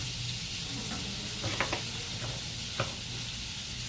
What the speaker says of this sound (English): Put in your onions.